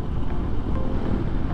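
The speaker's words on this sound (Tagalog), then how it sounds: "Lakas ng hangin dito." Strong wind sweeps past near a windmill along a lakeside road in Cardona, Rizal, giving a steady, fairly loud low rushing roar with no voices.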